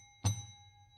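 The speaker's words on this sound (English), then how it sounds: "We've got the Village Square's trademark civility bell here tonight in case we need any reminding" A civility bell is struck once at a town hall gathering, a single bright ding with a soft thud at onset, its clear tone ringing on and slowly fading in a quiet room.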